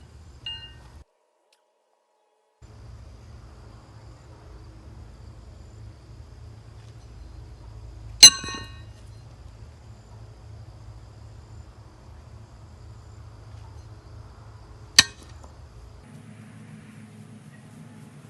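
Two thrown horseshoes, each weighing 2 pounds 8 ounces, strike a metal stake with sharp ringing clangs several seconds apart. Outdoor crickets and a low rumble carry on quietly in between.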